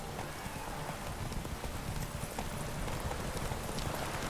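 A horse gallops in The Witcher 3, its hooves beating a fast, continuous clip-clop rhythm up close over a dense wash of ambient noise.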